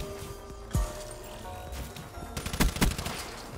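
In a Call of Duty Black Ops 3 match, a shotgun fires one punchy blast, then a quieter lull, then a quick cluster of two or three loud shots near the end over steady game ambience.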